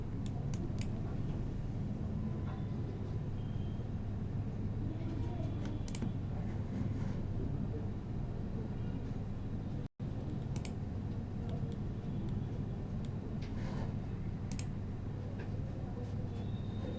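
Steady keyboard typing with occasional clicks, faint and close, over a continuous low background hum during AWS console login on a computer; a brief dropout near the middle, no speech.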